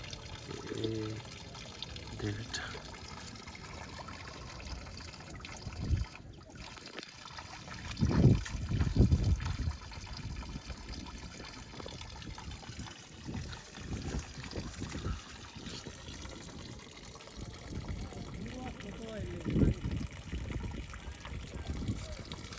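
Water is being changed in the engine of a Sifang power tiller during field ploughing. Faint trickling and splashing comes in intermittent bursts over a steady background hum, with occasional voices.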